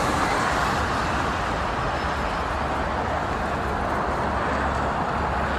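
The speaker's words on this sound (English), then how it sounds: "All the buses, all at once." Buses crowding a street corner in city traffic make a steady, dense roar of engines and road noise that stays loud and unbroken throughout, with no voices standing out.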